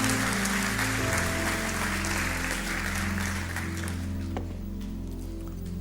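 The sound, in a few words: applause in a church service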